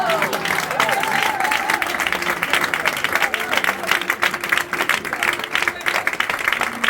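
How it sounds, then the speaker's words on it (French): A church congregation at a Sunday service in Libreville claps together, a steady wash of applause with voices and a faint tonal line running beneath it throughout. "Mais pourquoi vous ne voulez pas les applaudir?"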